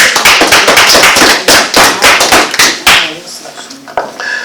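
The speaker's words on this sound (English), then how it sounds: "Give yourselves a hand clap for being here this morning" Congregation clapping for themselves at a morning church service, a dense run of loud, fast hand claps that thins out and fades after about three seconds.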